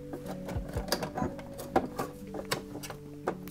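A sewing machine stitching a buttonhole on velvet backed with interfacing, with a quick uneven run of mechanical clicks and thumps and a faint motor hum, close and alone.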